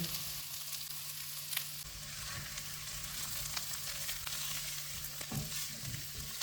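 Butter garlic potatoes frying in a pan give a steady, fairly quiet sizzle over a low hum, with occasional soft stirring taps and no speech.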